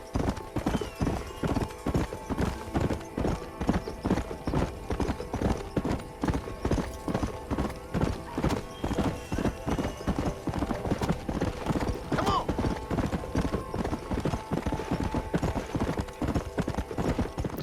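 Steady horse hooves clip-clop in Red Dead Redemption on Xbox One, a continuous rhythmic trot running throughout at close range, with a brief whinny-like sound partway through.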